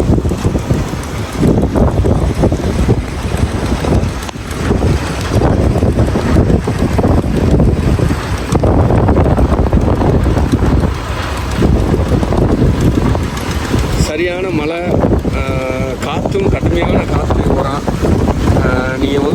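Strong wind buffets the microphone on the new Pamban railway bridge, a loud continuous roar of gusts that persists throughout, with a brief shift late on as the noise briefly eases and changes character.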